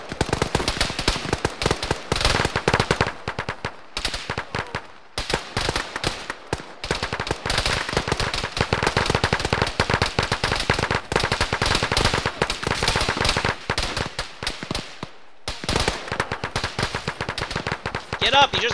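Dense, rapid bursts of automatic gunfire in a first-person shooter video game fill the whole stretch, loud and close, with only a few brief pauses between volleys.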